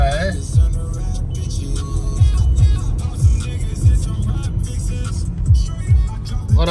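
A car drives along a narrow, clean road through a hilly area; the engine hum and road noise stay close and loud throughout, with repeated swells as it speeds up and shifts, and no talking.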